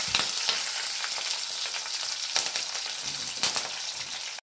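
Mustard seeds and green chilies fry in hot oil, a continuous bright crackling sizzle with small pops and spatters at an even, moderate level.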